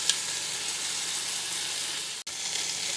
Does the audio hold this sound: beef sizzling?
yes